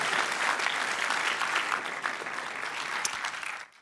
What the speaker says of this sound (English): So a big applause for Alex.